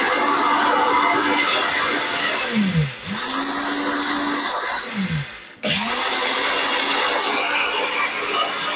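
A powerful electric blender grinds ingredients such as ginger, garlic, onion or turmeric into powder with a loud, close, high-pitched whine, its motor pitch dropping and rising twice as it briefly slows and spins back up.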